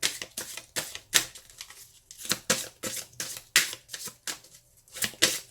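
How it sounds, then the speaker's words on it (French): Tarot cards shuffled by hand at close range: a run of quick, crisp riffling bursts in a steady rhythm, with short pauses between them and no talking. "on va tirer une carte de l'amour universel pour voir quel est le message qui va vous accompagner durant ce mois. Donc on mélange."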